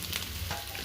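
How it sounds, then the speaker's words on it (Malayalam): Onions sizzling and frying in a hot pan, a steady close crackle with faint stirring over a low hum, lasting under a second. "അപ്പോൾ നമ്മൾ സബോള ഇടാൻ പോണം."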